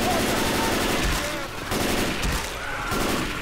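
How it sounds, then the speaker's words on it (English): Rapid bursts of automatic gunfire in the zombie shooter Left 4 Dead 2, dense and continuous with brief gaps, loud and close in a chaotic fight. "I can't see who I'm shooting."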